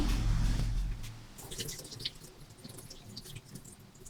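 Water draining from soaked ingredients for dosa batter makes a faint, wet dripping and trickling, with soft squishy liquid sounds close by and no talking.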